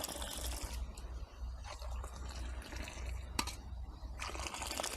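Sweetened plain tea is poured back and forth between vessels in a Sri Lankan village setting to cool it, giving a faint, continuous liquid stream with splashy bursts, heard alone without talk.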